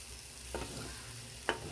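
Bombay duck fish frying with prawns in a pan, a steady sizzle with two distinct spatula scrapes against the pan, close and without speech.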